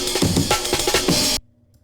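The Amen break drum sample plays dry and unprocessed, a fast, busy breakbeat of punchy kicks, snares and ride cymbal hits for about a second and a half before cutting off into near silence.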